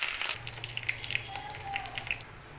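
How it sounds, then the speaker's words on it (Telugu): Spices for tempering hit hot cooking oil with a loud crackling burst, then settle into a steady close sizzle and spatter that fades near the end. "ఇలా పోపు వేసుకోవాలి."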